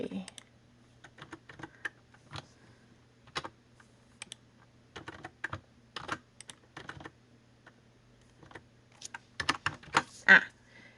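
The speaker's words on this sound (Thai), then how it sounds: "พิมพ์ใหม่ นะคะ" Keys clatter on a computer keyboard in scattered bursts of quick clicks with pauses between, close and fairly quiet, against a faint steady hum.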